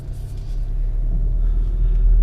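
Low, steady engine rumble of a Volkswagen Golf R fitted with a Neuspeed Power Module while driving, heard from inside as a constant drone that builds slightly.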